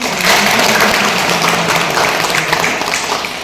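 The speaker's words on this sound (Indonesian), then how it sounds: "Jadi tepuk tangannya tuh." Audience applause at a senior citizens' school gathering in Bekasi, a steady dense clapping that fills the room for several seconds without a break.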